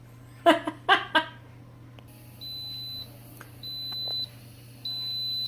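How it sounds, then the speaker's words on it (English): Three steady electronic beeps from a 7-in-1 Instant Pot timer sound at even intervals after a short burst of laughter and a click. "Okay, so it's beeping, the 2 minutes counted down."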